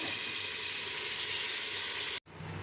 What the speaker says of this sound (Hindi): इसको आपने अच्छे तरीके से फ्राई कर लेना है जब तक इसका कलर चेंज ना हो जाए